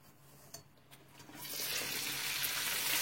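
Okra frying in oil in a pan, a soft hiss that swells into a steady, loud sizzle after a moment, close by and heard alone with no talking.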